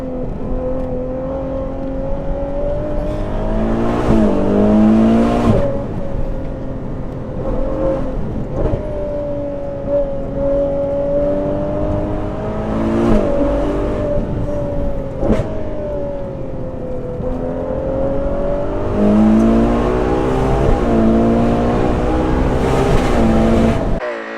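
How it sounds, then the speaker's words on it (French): Ferrari 812 GTS convertible with its V12 engine, revving and downshifting repeatedly, loud rising and falling howls punctuated by sharp blips and crackles, heard close from inside the car without talk. "avec le vrai moteur, hein, le V12, le moteur voulu par Ferrari"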